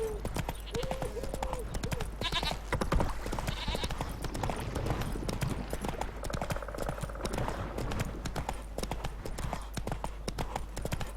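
In Witcher 3, Roach the horse gallops in a race, the clip-clop of hooves running steadily under game voices and a low background drone.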